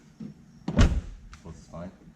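The trunk lid of a 2018 Audi A4 2.0T S Line shuts with a single solid thunk, fairly close, with brief talk before and after it.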